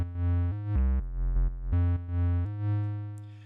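A dry synthesizer bass plays a short riff of held, buzzy low notes that change pitch in steps, alone and fairly loud.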